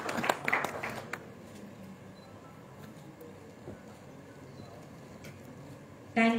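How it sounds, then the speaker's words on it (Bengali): An audience applauds at a company anniversary celebration with a short, scattered burst of clapping at the start that quickly fades into a low hall murmur. "আর একটা জোরে করতালি প্রত্যাশা করছি।"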